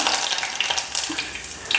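Curry leaves crackle and sizzle in hot oil, with small sharp pops over a steady hiss.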